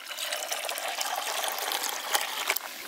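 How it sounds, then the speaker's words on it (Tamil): Water poured into freshly ground coconut to make coconut milk for a village-style crab Chettinad fry, a steady splashing pour lasting about three seconds, close and clear. "அரைச்சி வச்ச தேங்காயில் தண்ணி ஊற்றிடலாம்."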